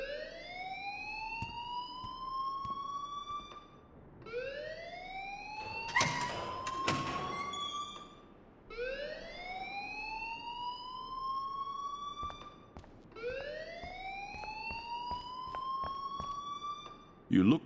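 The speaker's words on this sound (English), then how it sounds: "please turn off that alarm since that's your job" A school alarm in the game Life Is Strange wails in repeated rising sweeps, each rising steadily then cutting off, with game dialogue spoken over the cycling tone.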